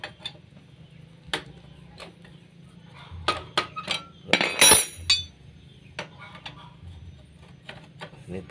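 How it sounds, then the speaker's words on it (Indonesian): A T14 wrench works on the bolts of a dragging front disc brake caliper on a motorcycle, giving sparse sharp metallic clicks and taps over a low hum, with a louder cluster of clanks and ratcheting near the middle. "Kita menggunakan kunci T14"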